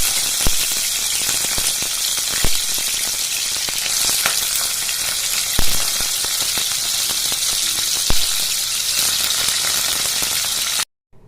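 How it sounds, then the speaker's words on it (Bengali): Shrimp frying in hot mustard oil in a wok, a loud continuous sizzle at close range broken by occasional sharp pops and spatters, running steadily until it stops abruptly. "দেখুন, আমি কড়াইয়ে সরষের তেল গরম করে নিয়েছি। এবার আমি এই চিংড়ি মাছগুলো আস্তে আস্তে ভেজে নেব এর মধ্যে।"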